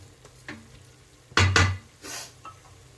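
A spoon stirs salted pudina rice masala in a cooking pan, with a pair of sharp scraping clinks mid-way, then softer stirring over a faint sizzle.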